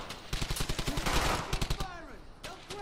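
Rapid bursts of machine gun fire in the World War II shooter Brothers in Arms: Hell's Highway, a steady rattling string of shots over about a second and a half, followed by fading echoes and whizzing tails, with shouted voices in between.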